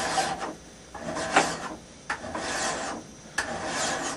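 A metal file rasps against the bevel of a handaxe, lifted and pushed back in a series of separate scraping strokes with short pauses between them, close and fairly quiet.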